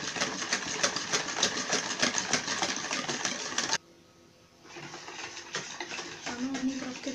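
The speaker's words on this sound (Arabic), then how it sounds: "هنقعد نضرب كده فيها لغاية ما كله يمتزج مع بعض كويس قوي" An electric mixer whirs steadily as it beats cake batter, loud and close for a few seconds, then cuts out briefly before a lighter mixing sound resumes.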